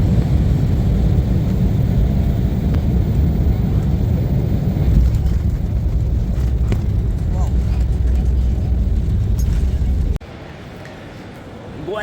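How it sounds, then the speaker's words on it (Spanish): Airliner landing at Alicante airport, recorded from inside the cabin: a loud, steady engine and air roar fills most of the stretch, then drops sharply to a lower rumble near the end. No clear speech. "A ver si tenemos un aterrizaje."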